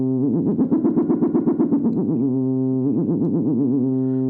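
A sine wave oscillator built as a custom unit on an ER-301 synth module, its pitch wobbling under an LFO, giving a steady, loud, warbling tone with fast vibrato that slows and deepens midway and continues without pause.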